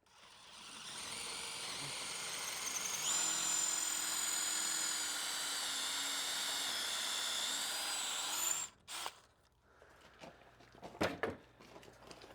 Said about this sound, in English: We have our drill. We're going to pre-drill about halfway.